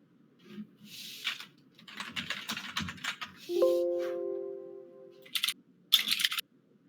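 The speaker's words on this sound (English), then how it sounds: "I can hear you typing." Typing on a computer keyboard during an online livestream session, with bursts of quick clicking keystrokes close to the microphone, a brief tonal beep partway through, and more clusters of key presses toward the end.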